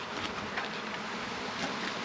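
A dense, steady buzzing of many honeybees at an open hive fills the air, continuous and close, with no voices.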